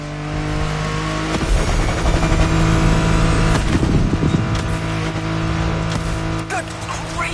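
Engine roar of a car driving at full speed in The Crew Motorfest, a loud sustained drone with rising revs and gear shifts, gritty road and impact noise swelling midway.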